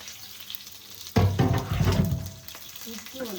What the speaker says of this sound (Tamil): கடுகு, காஞ்ச மிளகாய், கருவேப்பிலை போட்டாங்க. போட்டு இப்படி வதக்கிக்கணும்.